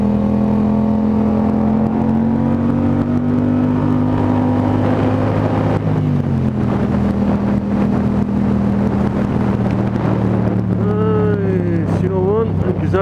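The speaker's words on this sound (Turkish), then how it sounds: "Araç geçerken devirli, daha sonrasında gaz tepkisini azaltmak için daha devirsiz kullanıyorum." Car engine revving while driving in Sinop, a loud, continuous engine drone with gear-like pitch shifts around the middle and wavering whines near the end, mixed with wind buffeting.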